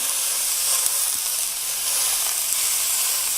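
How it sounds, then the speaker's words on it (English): Steady, loud sizzling of ground meat in a hot pan, a dense crackling hiss with occasional small pops. "I'm about to put the meat down in here."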